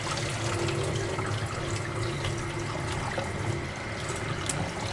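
Water runs from a tap into a sink during a tie-dye rinse, a steady, full, continuous gush that stays close and constant with no voices.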